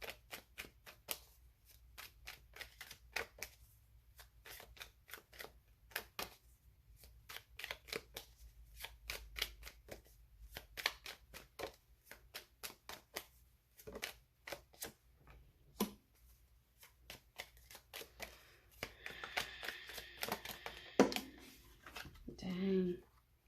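Tarot cards being shuffled at a table, a rapid run of crisp riffling clicks and flutters that repeat for most of the stretch, close and moderately quiet, with a few softer card slaps near the end.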